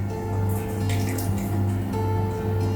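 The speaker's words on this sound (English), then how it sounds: "get this pan and pour all the contents through the sieve" Cooked blackberry liquid poured from a pan through a sieve into a bowl, a continuous close trickle and splash of liquid over a steady low kitchen hum.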